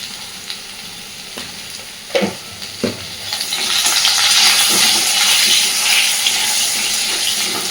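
Potatoes and taro with turmeric and salt being stirred in a frying pan: a few sharp spatula knocks at first, then a louder, steady sizzle swells and carries on.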